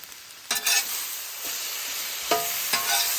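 Food sizzles steadily in avocado oil on a Blackstone griddle, with a few louder scraping stir strokes of a spatula breaking through the continuous frying hiss.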